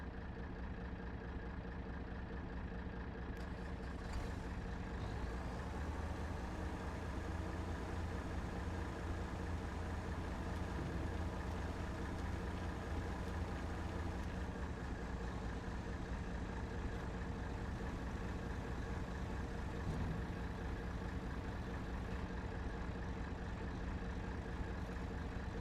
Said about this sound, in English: Nice lorry of stones.